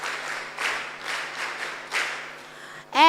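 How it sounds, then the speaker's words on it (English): Students at a mentorship session clapping for themselves, applause rising and falling in several swells, followed by a loud voice cutting in at the end. "Come on, clap for yourselves for joining."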